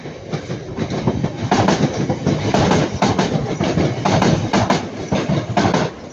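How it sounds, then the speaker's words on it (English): A Northern Class 323 electric multiple unit rolls past at Ardwick, close and loud, with steady wheel rumble and rhythmic clickety-clack over rail joints throughout. "three two three 227 going from Manchester Piccadilly to Ashfield"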